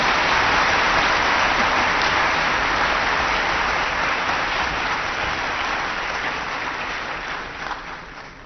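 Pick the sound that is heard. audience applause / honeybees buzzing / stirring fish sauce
audience applause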